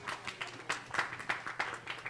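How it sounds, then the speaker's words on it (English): Members of the red team in a Sunday morning church congregation clap after winning a trophy, the claps sparse and faint and falling in a loose, steady rhythm. "Those of you who are red, yes, you can clap."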